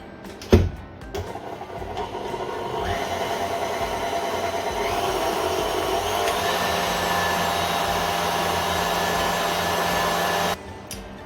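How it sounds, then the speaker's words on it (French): An electric hand mixer whirs steadily as it beats sugar and eggs until pale and foamy for coconut balls, a continuous close motor drone with a brief knock at the start, running alone for about ten seconds before cutting off. "Vous allez laisser tourner 2-3 minutes, on va essayer de blanchir le sucre avec les œufs."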